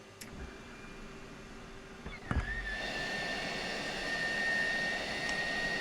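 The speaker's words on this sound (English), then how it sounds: "We'll open the canopy." Jet canopy opening in the Falcon BMS flight simulator: a short mechanical clunk and rising whine, followed by steady louder engine and cockpit noise with a sustained high tone.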